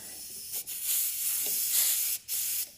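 Compressed air hisses steadily from a leaking hose fitting on a compressor feeding a Vevor air jack, loud and close, with brief pauses where the flow cuts off.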